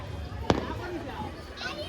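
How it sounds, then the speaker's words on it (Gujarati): A single sharp firecracker bang bursts out once at night during Makar Sankranti kite flying, amid ongoing chatter and background noise. "તો ફટાકડા ફૂટે છે."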